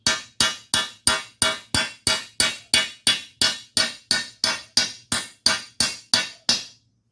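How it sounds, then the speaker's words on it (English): A small body hammer strikes a suspension bushing during an independent front suspension install on a 1951 Chevy, about twenty sharp metallic taps at a steady, even rhythm, close and loud with no talk. "I just got it started, a couple of taps, and just using my little body hammer"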